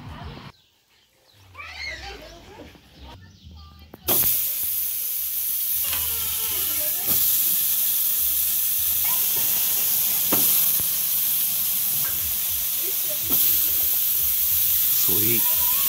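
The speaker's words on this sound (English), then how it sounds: "I got the grill going. And I'm about to throw some meat on there." Meat hits a hot grill with a sudden loud, broad sizzling hiss that holds steady to the end, sprinkled with small pops. Quieter outdoor sounds come before the meat goes on.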